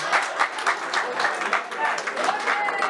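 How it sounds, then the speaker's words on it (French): Steady applause from an audience at a Gabonese Democratic Party anniversary gathering in France, a dense wash of clapping with crowd murmur mixed in, continuing throughout. "Vous voulez applaudir, allez-y."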